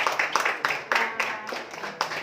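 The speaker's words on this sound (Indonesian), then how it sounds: "Oke, berikan tepuk tangan kembali." Guests at a wedding blessing ceremony clap nearby in a brief, uneven run of claps lasting only a couple of seconds.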